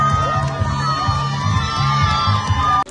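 A large, lively crowd of fans in Dagestan, many of them children, cheers, shouts and whoops continuously to welcome home the Olympic wrestling team, with a rhythmic lezginka beat thumping underneath.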